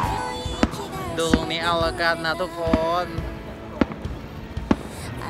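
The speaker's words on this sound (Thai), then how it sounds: "ดูพลุคู่กับหน้าฉัน" Fireworks at Disney in Japan, seen from a parking lot, go off as about five sharp bangs spaced through the scene, heard beneath close, ongoing chatter from people nearby.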